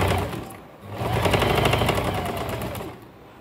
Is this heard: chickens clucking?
no